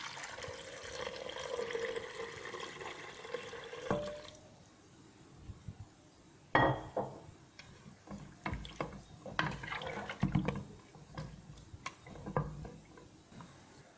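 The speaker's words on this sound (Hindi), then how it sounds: "अब हम इसमें पानी डाल देंगे," Water poured into a cooking pot of potato and meat curry with ginger-garlic paste makes a soft splashing, trickling flow, fairly faint, followed by light clinks and kitchen handling noises.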